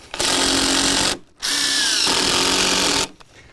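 A power drill whirs loudly in two bursts while framing a shed, the second longer with rising pitch as a screw is driven, separated by a brief pause.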